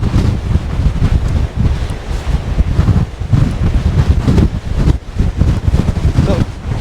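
Loud, rumbling gusts of coastal wind hammer the microphone on the clifftops near Lizard Point in Cornwall, with the sea surging below and a voice partly buried under the roar.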